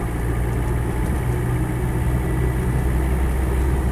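A Land Rover 90 2.5TD diesel engine with 152,000 miles runs steadily with a loud, close, low rumble and a constant vibrating drone throughout.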